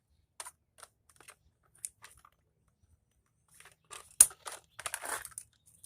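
Sparse crunching cuts through an air mattress being scrapped: scattered soft snips and plastic crackles at close range, building into a denser cluster of sharp crunches toward the end.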